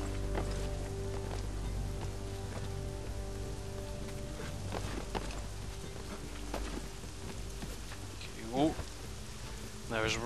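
Steady rain falls throughout a scene in the video game Assassin's Creed 3, a continuous broadband hiss with a low steady hum beneath, and brief game sounds and a short voice near the end.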